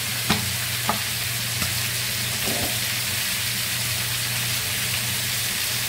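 Paratha flatbread frying in a pan produces a steady, loud, hissing sizzle with a low hum beneath, broken by a few soft knocks early on, with no talking.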